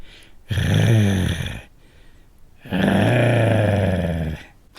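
A voice imitates a wolf's growling for a spoken story: two long, rough, throaty rumbling growls, loud and close, each about a second or more, separated by a short quiet pause.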